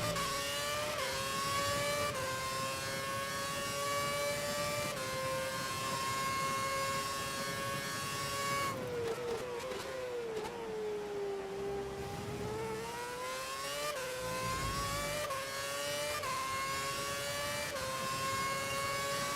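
High-revving F1 race car engine in F1 2011 holds a loud, continuous whine, dropping in pitch through a braking section around the middle before climbing back through upshifts, with no voices.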